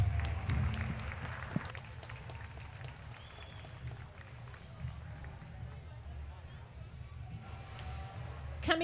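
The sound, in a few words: applause at market lamb show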